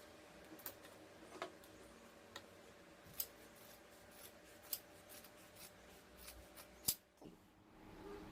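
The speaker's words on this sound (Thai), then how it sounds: "เดี๋ยวเราจะตัดนะคะสองชิ้นนี้" Scissors cut fabric pieces for a sewn cloth medicine bag, giving sparse, sharp snips at irregular intervals against a quiet, close background, with no speech.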